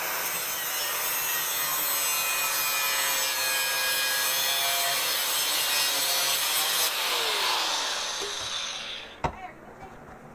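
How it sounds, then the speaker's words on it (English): Angle grinder cutting off a steel drill bit, a loud steady whining grind with rising and falling pitch for about nine seconds, ending in a sharp snap as the piece breaks away. "I'm going to attempt to take this off with an angle grinder right now."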